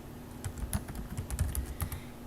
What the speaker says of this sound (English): then you're going to have to type it in again